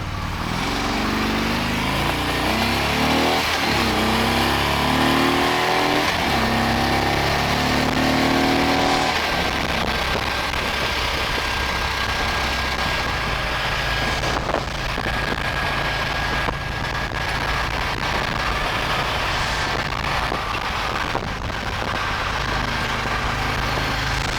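A police motor officer's motorcycle engine drones loudly and steadily while riding down the road, with rising pitch as it accelerates early on, then a constant roar mixed with wind rush.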